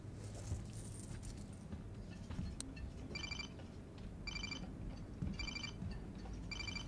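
Keys jangle in bursts in the Life is Strange video game, four or five short metallic rattles close by over a quiet low background hum.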